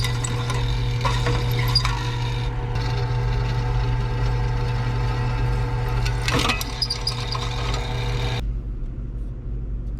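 Drill boring out a broken bolt in the body of a 1970 Cougar under restoration: a steady, close motor whine held for several seconds before cutting off abruptly.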